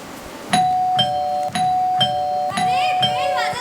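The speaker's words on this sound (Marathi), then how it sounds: "अरे बेल वाजत आहे. दार उघडा लवकर." A doorbell chimes four times at a steady one-second pace during a school Marathi stage play. Each ring is a clear, sustained electronic tone, loud and close, with faint background noise between strikes.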